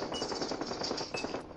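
Rapid automatic gunfire from a Battlefield Hardline shootout, a dense steady burst of shots that rattles on without pause for the whole stretch, close and loud, with no voices over it.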